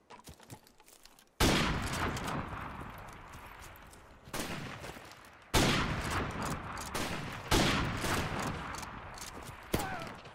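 Gunshots ring out in a one-on-one multiplayer cage match in a shooter game. Five or six loud, close shots come at intervals of about two seconds, each trailing off in echo, after a quieter stretch of small noises at the start.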